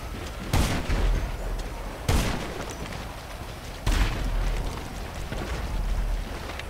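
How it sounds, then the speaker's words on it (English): Three separate heavy gunshots ring out in GTA 5, spaced roughly 1.5 seconds apart, each a sharp loud crack with a lingering rumbling tail. "Stop shooting at me, bruh."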